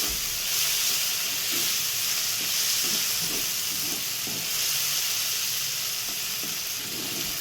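Raw coconut and beans fry in hot oil, giving a steady, loud sizzle and hiss with occasional stirring scrapes throughout, and no voices.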